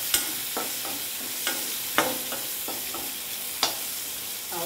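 Garlic and tempering spices frying in hot oil for a spinach and lentil dal curry, a steady close sizzle broken by regular scraping taps of a stirring spoon against the pan.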